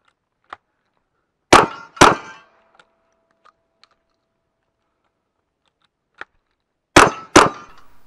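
Shotgun blasts ringing on steel targets at a cowboy action shooting match, sharp loud cracks in two pairs a few seconds apart, each with a short metallic ring, plus faint scattered clicks in the quiet between them.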